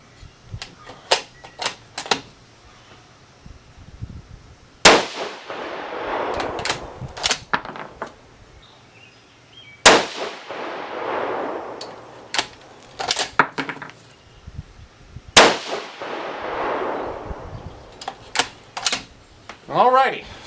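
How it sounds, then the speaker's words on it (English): Three sharp, loud 6.5 Creedmoor rifle shots firing Barnes 140gr Match Burner bullets ring out at an outdoor range, evenly spaced about five seconds apart, each followed by a brief echoing tail amid light clicks and handling noises. "we're going to go ahead and shoot this last one anyway. Just 3 shots."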